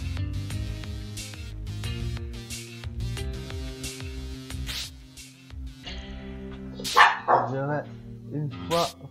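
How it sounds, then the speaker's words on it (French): Dogs bark in the prison-escape video game The Escapists 2, with a few sharp yelps and barks near the end over looping game music while someone talks. "vous étonnez pas si les chiens gueulent"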